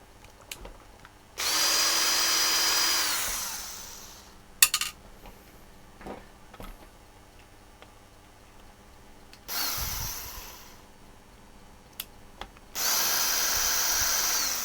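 A power drill unscrews the casing screws on a Promoto tombola drum, running in three separate whirring bursts of a few seconds each, close and fairly loud. Light metallic clicks and taps fall between the bursts.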